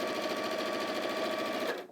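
A sewing machine runs steadily, stitching fabric into tubes along a seam allowance, a dense continuous whir that stops abruptly near the end.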